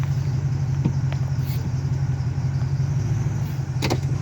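A Ford F-150 pickup truck's engine runs steadily in reverse with the driver's foot off the gas, giving a continuous low, close idle-like hum with a few faint clicks and no talking.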